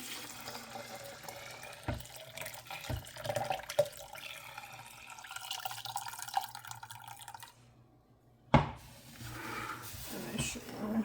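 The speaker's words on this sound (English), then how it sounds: "I'm gonna add the water here." Water runs and splashes into a pot of cooked beans for several seconds with small knocks, pauses briefly, then resumes with a clunk.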